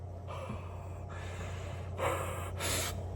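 Breath blown hard into a 3-ply face mask gives soft, close huffs, with a couple of stronger gusts near the end.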